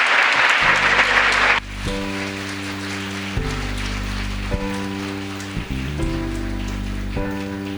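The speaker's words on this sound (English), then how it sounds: "Please give her a big round of applause once again" Applause at a youth peace conference bursts loud for a moment at the start, then stops abruptly as sustained, steady tones take over for the rest.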